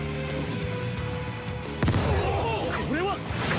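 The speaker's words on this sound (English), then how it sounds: "here come the bombs" In the Sword Art Online Alicization War of Underworld anime, bombs go off as one sudden heavy boom midway, set over a rumbling battle background with voices and rising whistling tones afterward.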